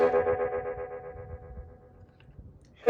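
Blues harmonica playing through a Catalinbread Belle Epoch Deluxe tape-echo delay pedal, a single held wavering note with modulated, repeating echoes that slowly fade, then a brief new attack at the end.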